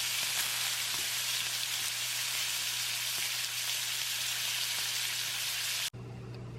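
Brussels sprouts frying in a pan give a steady, close hiss and sizzle that holds evenly for about six seconds, then cuts off abruptly to a quieter background.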